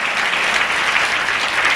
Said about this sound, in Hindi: ताली नहीं बजाएंगे?